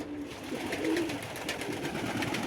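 Tippler pigeons returning to the loft give a soft low coo or two over steady outdoor background noise, fairly faint and with no talk.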